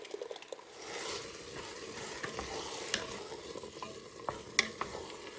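A spoon stirs chopped onion and garlic in oil, with crushed tomatoes in the pot, for a butternut squash turkey chili; a soft continuous sizzle runs under it, broken by scattered clinks and scrapes of the utensil against the pot.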